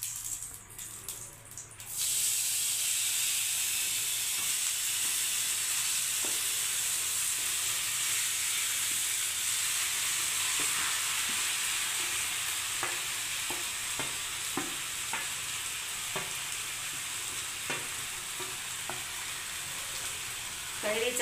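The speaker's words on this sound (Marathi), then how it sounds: "आता 4 ते 5 मिनिट छान असं परतवून घ्यायचं आहे आपल्याला" Grated raw mango sautés with mango jam in a pan, a steady hissing sizzle with soft scraping stirs and occasional clicks, moderately close, with no talk throughout.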